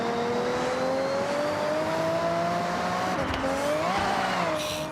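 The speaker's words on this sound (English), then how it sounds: "This car sounds so good." A race car in a racing video game revs loudly and steadily, its engine note climbing and shifting pitch, with brief tire squeal near the end.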